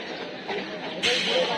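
A train pulls into a station with a loud, steady rumble and hiss that swells partway through.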